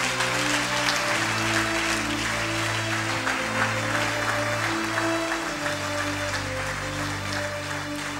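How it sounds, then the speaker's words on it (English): Clapping from a church congregation during a service, a continuous wash of many hands over a low sustained keyboard chord that shifts pitch partway through. "If you are clapping for Jesus, why don't you do it properly?"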